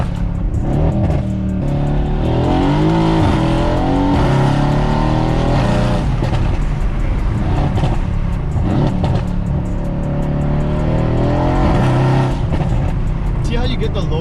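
A Mercedes-AMG W205 C63 S with a reprogrammed MCT gearbox is short-shifted under load, its loud engine climbing through gears in repeated rising sweeps with brief dips at each shift, while people talk over it.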